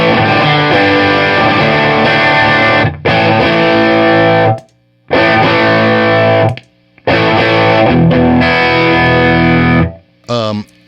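Electric guitar played through a Belle Epoch Deluxe Echoplex preamp with slapback off, loud and close, sustained chords and notes broken by a few short pauses, no voice over it.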